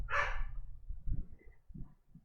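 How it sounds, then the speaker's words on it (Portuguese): Several dogs bark during a thunderstorm: a loud, sharp bark opens the clip, followed by lower, muffled barks and yips repeating irregularly at middle distance. "também não vai segurar os meus cachorros latindo"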